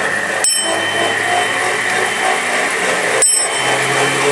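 A bell on a hand-cranked high-speed rotor device strikes twice, a few seconds apart, each a bright ring over a continuous whirring hum from the spinning mechanism.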